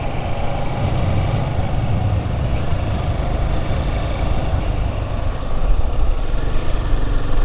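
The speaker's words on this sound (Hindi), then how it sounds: "ये यहाँ का ट्रैक्टर कुछ ऐसा दिखाई देता है।" A tractor in a remote Nepal village rumbles with a continuous low engine drone and rattling, loud and close, steady throughout with a slight swell toward the end.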